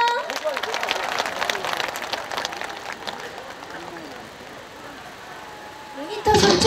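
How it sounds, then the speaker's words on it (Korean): Clapping from a crowd at an outdoor apple festival concert, a moderate patter of hands that gradually thins out before a voice cuts in at the end. "박수 많이 쳐주세요."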